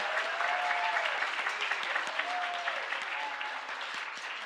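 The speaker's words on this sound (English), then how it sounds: "hear a round of applause for everyone that's going to be playing for us tonight" A round of audience applause for drum performers at an evening concert, steady full clapping from a sizeable crowd with a few faint voices and whoops mixed in.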